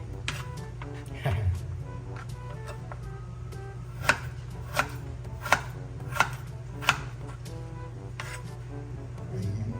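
Ginger sliced thin into strips with a knife on a cutting board, a series of crisp, evenly spaced chops close by over a low steady hum, with faint bits of voice in the background.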